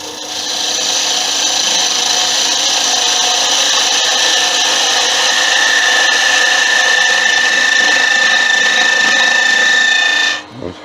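A wood lathe turns a tenon meant for a chuck, with a tool held against the spinning wood. It makes a loud, continuous scraping whir with a steady pitch that holds evenly for about ten seconds, then cuts off abruptly.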